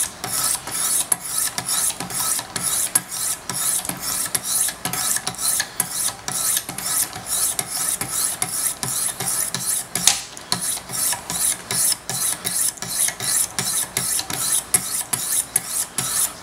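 Repeated rasping strokes of Wicked Edge sharpening stones laying a micro bevel on a Large Sebenza 21 Insingo knife blade, a steady, close, rhythmic scraping that continues without pause and without talk.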